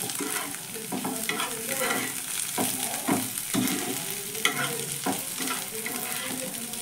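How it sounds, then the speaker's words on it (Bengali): Onions and a spice mix sizzle in a hot pan while a spoon stirs and scrapes them, a continuous close frying hiss punctuated by rhythmic stirring strokes. "সব মশলাগুলো একসঙ্গে মিশিয়ে নিয়ে আমি আরও একটু ভেজে নেব"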